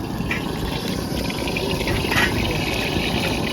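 Water pours and splashes steadily as ingredients are rinsed at a Chinese street food stall in Dongzhe, a continuous gushing wash over busy broadband stall noise.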